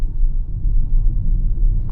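A Hyundai Creta EV drives along with a steady low rumble of road and cabin noise, continuous and fairly loud, with no engine note standing out.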